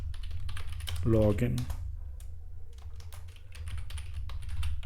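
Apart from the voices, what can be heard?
typing code on a computer keyboard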